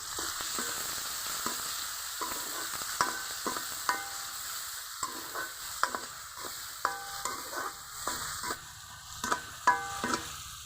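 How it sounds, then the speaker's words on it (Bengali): Chopped onion, tomato and garlic sautéing together in a pan for an egg dish: a low steady sizzle punctuated by repeated spatula scrapes and clinks against the pan in an irregular rhythm, no talking. "দিয়ে দিব টমেটো কুচি, দিয়ে দিব রসুন কুচি। সবগুলো একসাথে কিছুক্ষণ কষিয়ে নিতে হবে।"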